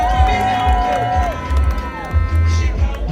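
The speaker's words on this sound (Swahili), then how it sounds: "Iringa piga kelele." A crowd from the Iringa region cheers and shouts at a national school sports awards ceremony, loud whoops and cries in waves, close by, with an amplified voice over the noise.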